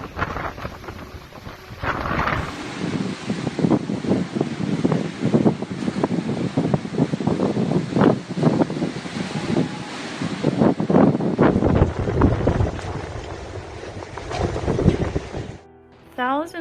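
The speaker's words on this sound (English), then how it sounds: "powerful cyclone winds battered the Indian Ocean island nation" Powerful cyclone winds battering Mauritius, an Indian Ocean island: a continuous loud roar of wind buffeting the microphone, gusting up and down for many seconds before cutting off abruptly.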